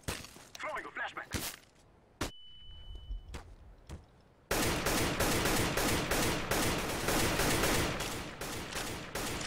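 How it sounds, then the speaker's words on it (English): A flashbang grenade thrown in Counter-Strike: Global Offensive, heard as a sharp burst that drops into a thin, ringing tone and quiet, then dense nonstop gunfire and game noise, with players talking throughout. "Throwing a flashbang."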